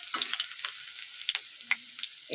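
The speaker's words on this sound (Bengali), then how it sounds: "কাঁচা রসুনটা, সেটাকে দিয়ে দেবো তেলের মধ্যে, দিয়ে অল্প করে আস্তে করে নেড়ে দেবো" Grated raw garlic frying in hot oil while being gently stirred, a faint crackling sizzle with a few soft scrapes and pops, close but quiet.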